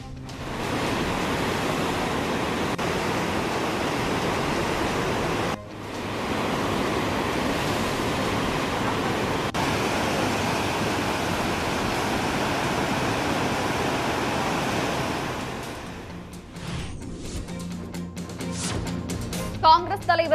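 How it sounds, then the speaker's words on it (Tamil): Water roars from the broken sluice gate of the Parambikulam dam, a loud continuous rushing wash that drops briefly once and gives way to other noises near the end. "பரம்பிக்குளம் அணையில் மதகு உடைந்ததால் மூன்றாவது நாளாக வெளியேறும் தண்ணீர்."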